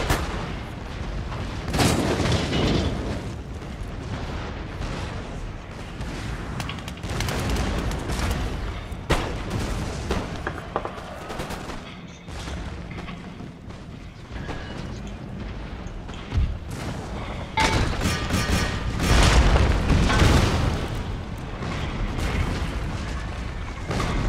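Video-game cannons fire in a continuous barrage for over twenty seconds, loud overlapping booms and blasts packed densely together with little pause between shots.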